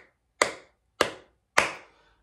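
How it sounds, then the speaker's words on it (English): Three sharp, loud hand claps, evenly spaced about half a second apart, each with a quick decay into silence; no voices. "So most people, when they clap their hands,"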